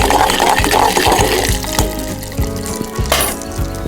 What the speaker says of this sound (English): And now I'll pour it in the